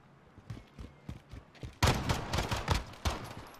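Shotgun fire in Call of Duty Modern Warfare, a few lighter thumps followed by a loud, dense burst of shots and a last report, close and without talk.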